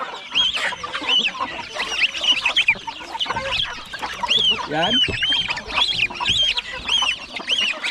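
Chickens cluck repeatedly in a busy farmyard, with geese present among the poultry and a voice speaking briefly over the steady, overlapping calls.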